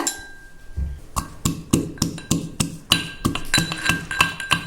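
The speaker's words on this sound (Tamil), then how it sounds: "இப்போ இந்த பூண்டையும் தட்டி எடுத்துக்கலாங்க." Garlic cloves with their skins on are pounded in a steady series of about a dozen sharp, close knocks, a dull thud against hard stone or metal with each strike.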